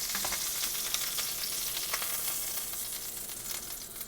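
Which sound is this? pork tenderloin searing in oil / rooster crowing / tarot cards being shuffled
pork tenderloin searing in oil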